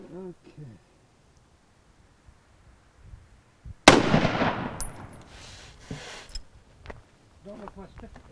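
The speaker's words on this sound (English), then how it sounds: "We should shoot one more 30 out of 6 below it and just give a comparison." A 30-06 rifle round fired into a ceramic armor plate gives one sharp, loud crack whose echo decays over about a second. People talk quietly before and after the shot.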